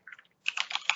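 Computer keys are tapped in quick, faint, close clicks, a brief first group followed by a slightly louder burst of several keystrokes.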